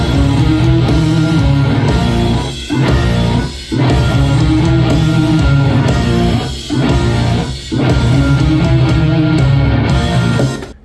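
Heavy guitar riff from a song driven by a full band with drums and bass, loud and dense throughout, with a few brief gaps where the band stops together before crashing back in.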